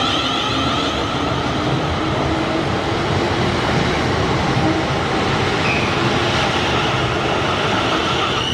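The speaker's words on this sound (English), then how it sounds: "this is the train station" A train rumbles steadily through a station in Sunbury, with broadband rail noise and faint wheel clatter holding loud and close throughout, no voices present.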